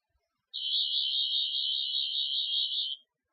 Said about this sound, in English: that was the sonic screwdriver noise